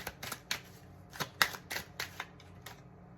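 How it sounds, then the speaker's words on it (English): A deck of oracle cards is shuffled by hand in a quick run of about eight crisp riffling bursts, close and clear, with no talk. "Why are all these cards falling out?"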